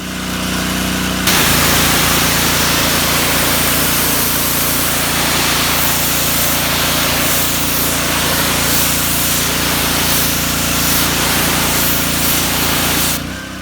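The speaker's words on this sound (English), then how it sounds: "then I'll fire the pressure washer back up again, and we'll make another pass at it with a slightly different nozzle" A pressure washer sprays a camper with black streaks, starting abruptly into a loud, steady hiss of water blasting the surface over an engine hum, then cutting off near the end.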